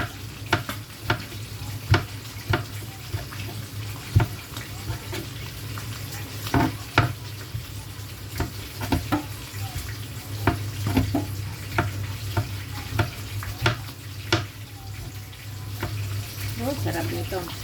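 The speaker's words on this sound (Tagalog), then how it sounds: "Naluluto na yung bangus." Milkfish (bangus) cooks in a pan with a steady low sizzle and frying crackle, punctuated by repeated close clinks and scrapes of stirring, while someone speaks nearby.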